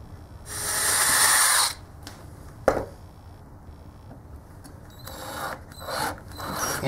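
A power drill whirs in a short burst as it bores a pilot hole in wood for a small folding table, followed by a sharp knock, handling clatter and several brief buzzing bursts.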